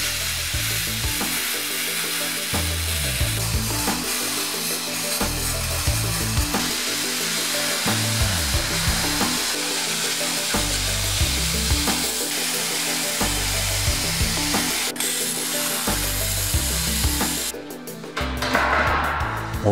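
Metal cutting on the body shell of a 1967 Porsche 911S Targa under restoration: a continuous harsh grinding whine with pulsing rhythm, loud and close, ending in a burst of sparky noise.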